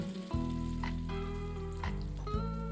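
An egg and corn mixture hits a buttered pan and sizzles steadily, with a continuous close frying hiss and a few soft clatters as it is spread.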